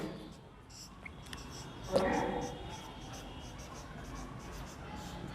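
Chalk or marker scratches briefly on a classroom board during a basic mathematics lesson, a short faint stroke under a teacher's speech.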